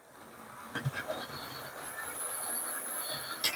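A model railway train running on its track, giving small clicks and thin metallic squeals close by, with a faint steady whir building beneath.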